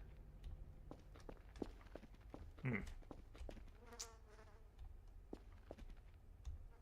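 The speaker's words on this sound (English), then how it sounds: "I can hear flies buzzing around here." Faint insect buzzing of flies lingering in a grim horror-game station room in Voices of the Void, a thin drone under scattered footsteps and small clicks, with a brief louder swell near the middle.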